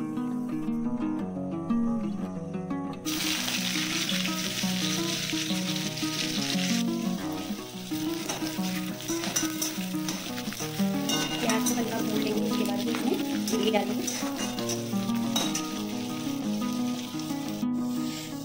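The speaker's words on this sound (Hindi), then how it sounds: "तो तेल भी अच्छे से गर्म हो चुकी है, अब मैं इसमें सरसों या राई के दाने डाल देती हूँ।" Mustard seeds crackle and sizzle in hot oil in a home kitchen pan, a continuous close frying hiss with scraping and stirring, partly blended with background music and some voice.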